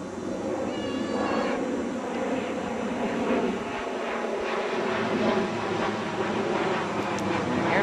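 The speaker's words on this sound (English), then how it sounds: "Airplane." A steady, droning engine roar fills the air like a plane passing overhead, with a whiny, meow-like tone riding on top.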